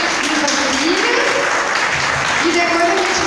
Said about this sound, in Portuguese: eu quero uma salva de palmas para Moisés.